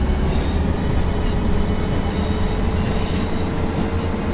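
A train rumbles steadily past on the rails, loud and close, a dense continuous roar with faint high squealing from the wheels and no voices over it.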